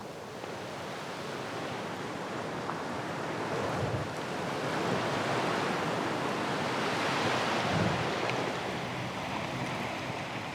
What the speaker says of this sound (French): Les glaçons énormes vêlés par le glacier soulèvent la mer. Un vrombissement puissant qui remonte des abîmes.